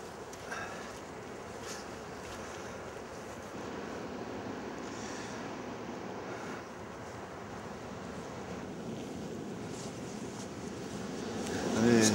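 Ocean surf at a surfing beach on the Baie des Trépassés in Finistère, a steady broad wash of small waves mixed with wind noise on the microphone, rising slightly at the end.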